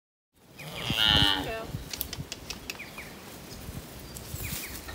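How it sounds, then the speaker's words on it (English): A cow among a neighbour's cattle gives one loud, close, drawn-out moo, followed by quieter rustling and faint scattered knocks outdoors. "That's the last of the neighbour's cattle"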